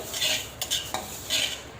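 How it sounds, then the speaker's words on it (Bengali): A metal utensil scrapes and clatters repeatedly against a wok as lentils are dry-fried and stirred on a stove, with uneven bursts of stirring and a faint sizzle underneath. "এক চোলাতে কড়াই বসিয়ে দিয়েছি এখন ডালগুলো ভেজে নেব"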